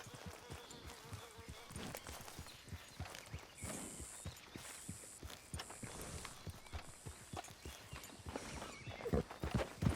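Horse hooves clip-clopping in the Red Dead Redemption 2 video game, a steady rhythmic stream of close, distinct hoofbeats that grows slightly louder toward the end, with a voice speaking briefly.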